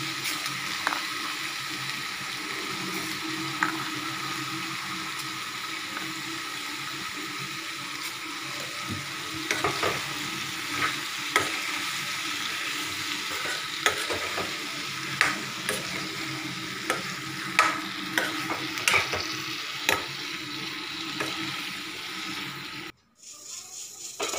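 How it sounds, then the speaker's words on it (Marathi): Cauliflower frying in a pan, stirred with a utensil, giving steady sizzling with repeated scraping clacks throughout. Up close and moderately loud, ending in a brief drop to near silence. "मिक्स करूया, ढवळूया."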